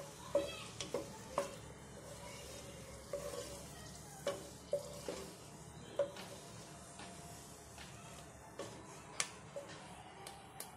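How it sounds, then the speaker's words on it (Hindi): Dried red chillies fry lightly in oil for a garnish, a faint, quiet sizzle punctuated by many small irregular taps and clicks of a spoon in the pan, with no one talking. "ये हम ऊपर गार्निश के लिए तैयार करेंगे सूखी मिर्च। हल्का सा भून के लेना है"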